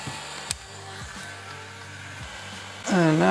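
A heat gun whirs steadily beside a BMW night vision camera, warming reusable sealant, with a brief click early on and a louder surge of blowing near the end.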